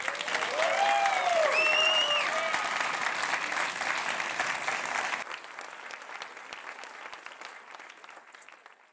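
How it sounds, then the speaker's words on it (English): A crowd at a gala awards ceremony applauds winners with sustained clapping that fades and thins toward the end, with a voice over it at the start. "let's have a round of applause for our winners"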